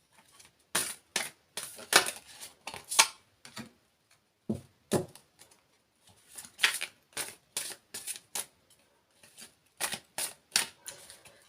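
Crisp papery clicks and riffles come in irregular bursts with short pauses between, close and fairly quiet, as tarot cards are shuffled loosely by hand.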